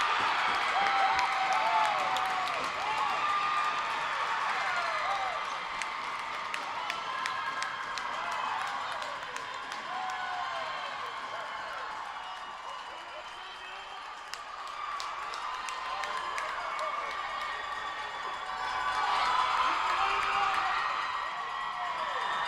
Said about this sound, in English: Well, this crowd is electrified.